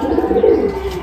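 Madrasi pigeons in a loft coo with a short, soft, throaty burble, close and clear and heard alone.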